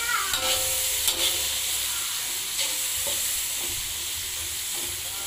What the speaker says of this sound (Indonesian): Sekarang kita goreng ikan asinnya. Goreng, kita oseng